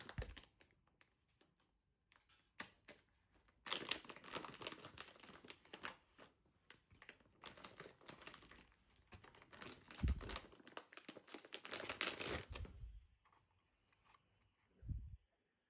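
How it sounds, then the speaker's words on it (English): Crinkling of a plastic bag being opened to unpack a camera close-up lens filter, bursts of crackly rustling coming and going, close up, with quieter pauses between. "It comes in a plastic bag."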